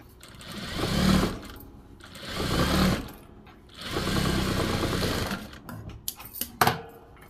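Sewing machine top-stitching a folded strip on a blouse, running in three steady bursts of about a second or more each, close and fairly loud, with short pauses and a few clicks and handling knocks at the end.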